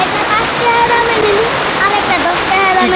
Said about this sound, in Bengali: ও কি জোরে আসতেছে বৃষ্টি